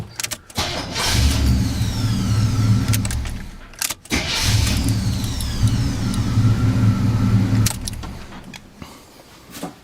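A dually pickup truck's engine cranks over on a replacement used starter and catches, running steadily and loud up close for several seconds, pausing briefly, then starting and idling again with a rough low rumble.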